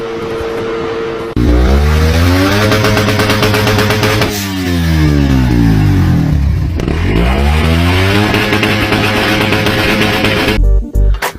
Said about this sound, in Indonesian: Suzuki Satria FU injeksi dikenal sebagai motor yang overpower. Lah ini masih ditambahkan lagi pakai turbocharger.